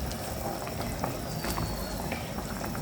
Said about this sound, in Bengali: তরকারিটা কিন্তু একদম ফুটে উঠেছে।